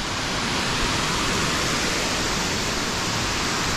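Waterfall on the Trilha do Ouro near São José do Barreiro, a loud, steady, broadband rush of falling water filling the whole stretch without pause, close by.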